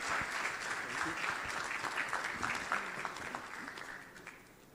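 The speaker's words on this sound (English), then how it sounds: "Applause, please, for our keynote address." Audience applause for a keynote address at a Central Bank of Nigeria event, dense steady clapping from a large crowd that holds throughout and tapers slightly at the end, with no talk over it.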